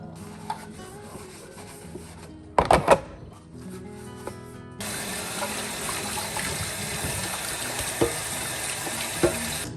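At a kitchen sink, dishes are washed after lunch: a few rubbing and clinking sounds come first, then a tap runs in a steady, close gushing stream for the rest of the time.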